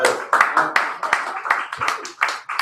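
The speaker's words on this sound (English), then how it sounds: "Big round of applause" An audience at an evening open-mic reading claps and applauds in a lively burst of close, dense hand claps, with voices mixed in among the clapping.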